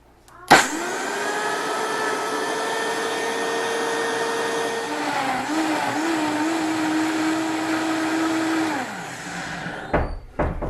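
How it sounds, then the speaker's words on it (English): A blender whirs loudly through a heirloom tomato soup mixture, starting abruptly, holding a steady high-pitched motor drone that shifts pitch midway, then winding down and stopping near the end. "I'm going to blend that up"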